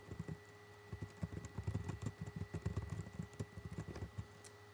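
Keys on a computer keyboard are tapped in quick, uneven bursts of light clicks, close by, over a steady low electrical hum.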